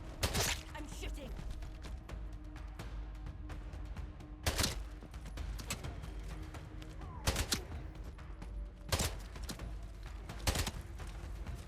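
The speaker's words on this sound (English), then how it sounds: "I'm shooting." Sharp, scattered gunshots ring out in the video game Atomfall, a handful of distinct loud bursts spaced a couple of seconds apart over a quiet, low rumbling background with occasional voices.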